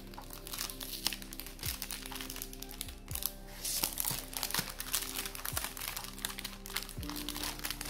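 Close crinkling and crackling of plastic wrap being peeled and torn off an album package, with irregular crunches and rustles continuing steadily throughout.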